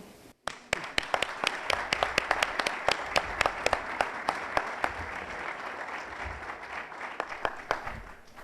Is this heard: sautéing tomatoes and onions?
no